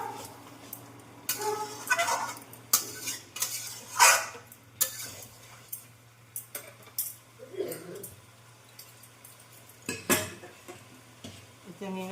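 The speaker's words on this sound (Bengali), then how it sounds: "দেখো আমি কত সবজি মানে কতটা ফুলকপি, আলু সব নিয়েছি, কষতে কষতে আমার একদম একটুকুনি হয়ে গেছে।" Cauliflower, potato and soybean are sautéed and stirred in a pan, with irregular close scraping and clattering strokes over a faint sizzle and a low steady background hum.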